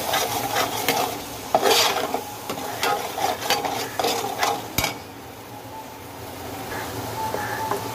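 Homemade masala is stirred in a frying pan for a mutton dish, a spoon scraping and clinking against the metal over a light sizzle, with several sharp knocks and a quieter stretch toward the end.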